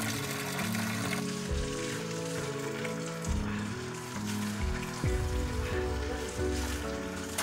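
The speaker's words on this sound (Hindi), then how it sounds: "यहाँ पे बहुत अच्छा झरना है, इस झरने का पानी आप पी भी सकते हैं" Spring water from a mountain waterfall at Trikut Pahar in Deoghar gives a continuous rushing, splashing hiss. The sound holds at an even, moderately loud level throughout, with lower tonal sounds layered underneath.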